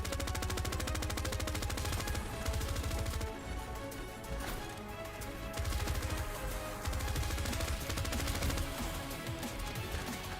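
Rapid gunfire in an online shooter game, dense repeated shots layered over loud game audio and a continuous low rumble, with no clear speech.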